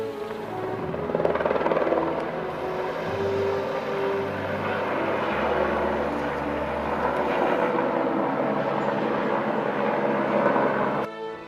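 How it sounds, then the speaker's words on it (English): A rescue helicopter drones steadily overhead near Pangboche on the Everest Base Camp trek, with a loud, continuous rotor rumble and engine whine, its pitch shifting slightly as it moves. "is at this present moment being rescued by a helicopter just above"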